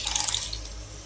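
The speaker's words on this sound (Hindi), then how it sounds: "अब इसमें हम डालेंगे जो दाल पकाया वाला" Cooked dal poured into a pan of Maggi noodles gives a brief, close, wet splashing pour with dripping liquid.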